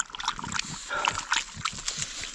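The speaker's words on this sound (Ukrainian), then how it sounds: "Зараз 5 хвилин собаки ще поп'ють водички." Wet lapping and slurping from dogs drinking water in a forest, irregular splashy laps overlapping one another.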